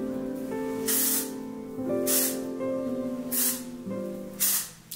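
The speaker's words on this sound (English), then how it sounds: "Just gonna be using Whey texturizing spray and putting it in there" Four bursts of aerosol hiss from a texturizing hair spray, each about half a second, spaced roughly a second apart, over a steady background of music.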